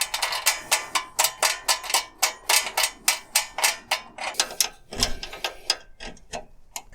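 A ratchet wrench cranks a nut tight on a Land Rover Series 3 soft-top fitting, giving a steady run of crisp metallic clicks, close and loud, slowing into a few scattered clicks and a heavier knock near the end.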